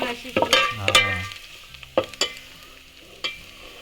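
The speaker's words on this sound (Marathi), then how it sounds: "साली सकट लसूण फोडणीला दिली" Unpeeled garlic cloves sizzling in hot tempering oil over a wood-fired clay stove, with sharp spatula clatters and stirring at the start and a crackling fry continuing beneath further scattered scrapes.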